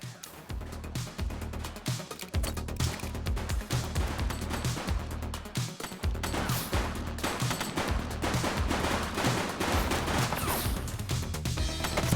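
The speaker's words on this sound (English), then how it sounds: "He's shooting!" Gunfire in the police game The Precinct crackles in dense, continuous bursts and rapid shots, a sustained firefight with a low rumbling bed underneath.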